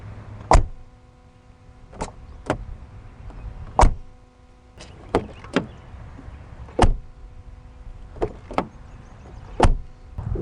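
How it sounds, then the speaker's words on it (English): The doors of a Mercedes-Benz 300TE 4Matic wagon from the 80s or 90s open and shut repeatedly, giving about a dozen sharp solid thunks spread irregularly over several seconds with quiet gaps between. "the way how the doors open and close"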